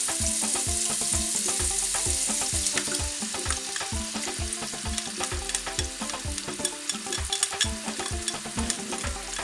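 Tomato stirred into a hot pan of tripe sizzles loudly and steadily, with regular scraping stir strokes repeating throughout; no voices.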